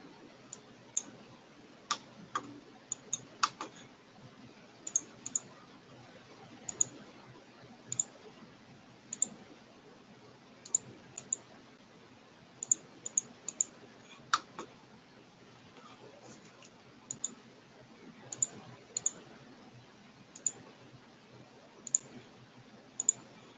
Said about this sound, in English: and click this button.